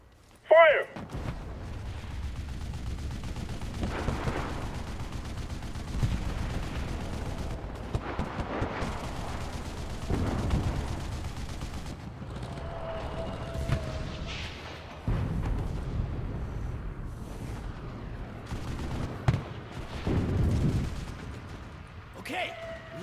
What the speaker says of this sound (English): We need artillery support! Roger that. Fire.